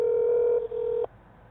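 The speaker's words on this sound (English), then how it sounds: "Hang up the phone." A telephone tone sounds just after the phone is hung up: a loud, steady electronic beep with a brief dip partway through, then it cuts off into quiet line noise.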